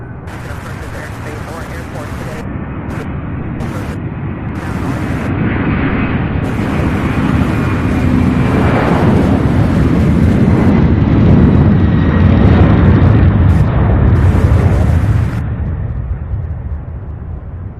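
A UPS Airbus A300 jet takes off at Louisville airport: a broad, steady engine roar that builds to a loud peak mid-clip, then eases as it moves away.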